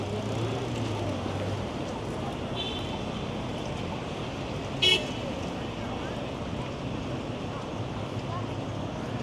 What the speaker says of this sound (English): I'm not sure what the point is of honking when you're in this situation here.